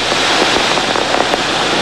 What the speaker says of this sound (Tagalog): Dito, muling bumuhos ang ulan